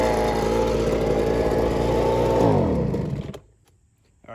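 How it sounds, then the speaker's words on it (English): A Ryobi BP42 backpack leaf blower with a carburetor fault idles as a loud, buzzing two-stroke drone, then bogs down with falling pitch when throttled and sputters to a stop, leaving near silence. "Ryobi BP42 leaf blower. It's a backpack blower."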